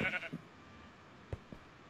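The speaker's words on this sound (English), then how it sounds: "Oh no! I just bounced on the sheep." Sheep in the Minecraft video game bleats in a short, wavering burst at the start, followed by a couple of brief soft thumps, all fairly faint and without talk.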